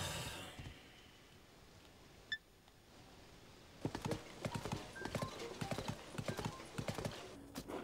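Horse hooves clip-clop in Zelda: Tears of the Kingdom, coming in as a brisk, close run of uneven beats after a quiet start, with a short electronic beep beforehand.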